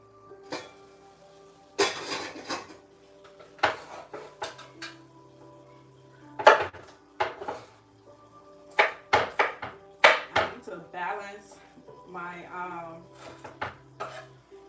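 Sharp, irregular knocks and clatters of a knife chopping on an unbalanced, wobbly board that rattles and clunks, scattered hits with pauses between.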